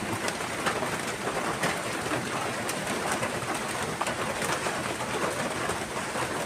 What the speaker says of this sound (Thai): นี่ครับบรรยากาศฝนตก